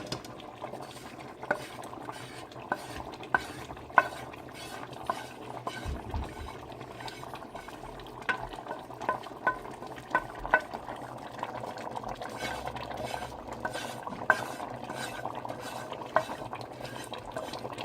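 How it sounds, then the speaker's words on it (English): Gumbo roux bubbles in a pot on the stove, a steady low simmer dotted with frequent small pops and occasional spoon or utensil clinks, close and continuous with no talking. "something bubbling on the pot"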